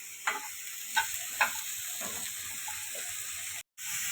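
A few soft scraping clicks of a spatula moving ingredients around a dry pan while dry roasting for matar paneer, under a steady faint hiss, with a brief dropout near the end.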